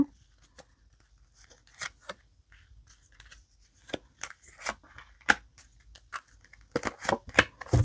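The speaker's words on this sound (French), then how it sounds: "Hop, on va disposer les cartes." Tarot cards laid out one by one on a table, scattered soft slaps and light papery snaps that grow busier toward the end, close and fairly quiet with no talking.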